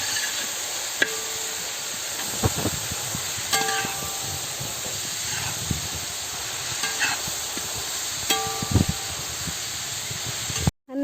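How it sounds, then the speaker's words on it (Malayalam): Onions frying in a pan until golden brown for a Kerala chicken curry: a continuous hissing sizzle with regular clinks and scrapes of a stirring spoon, close and fairly loud, cut off abruptly at the end. "ഒരു ഗോൾഡൻ ബ്രൗൺ നിറമാവുമ്പോൾ വരെ നമുക്ക് ഇതൊന്ന് നന്നായിട്ട് വഴറ്റാം"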